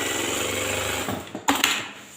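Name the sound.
single needle lockstitch sewing machine stitching fabric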